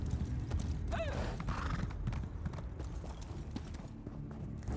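A horse in The Elder Scrolls Online on Xbox Series, hooves clip-clopping in steady rhythm at close range, with a brief whinny early on over a busy game soundscape.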